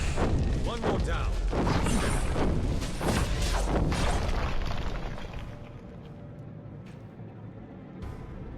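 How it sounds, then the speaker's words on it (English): Fireworks go off outside in a rapid series of deep, rumbling booms over roughly the first five seconds, then fade to a quieter background with one faint late pop. "Fireworks outside."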